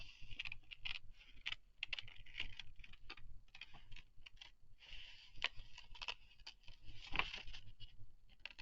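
Scissors cutting paper for a self-portrait collage, heard as quiet, irregular clicking snips in quick succession, close but faint, with no voices.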